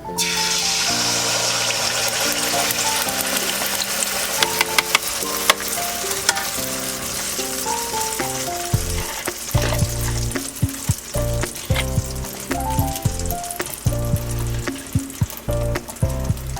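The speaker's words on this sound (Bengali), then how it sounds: "তেলে গোলাটা দিয়ে দিচ্ছি।" Batter being poured into hot oil fries with a loud, steady sizzle and crackle that runs throughout, with some clanking utensil hits along the way and background music.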